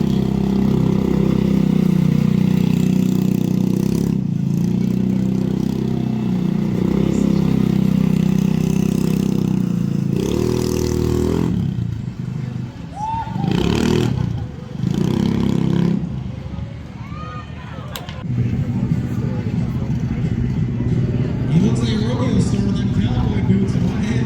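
Motorized scooters race around a pit bike obstacle course, their small engines droning loudly and steadily, then sputtering, revving and surging in uneven bursts, with a voice talking over the engine noise.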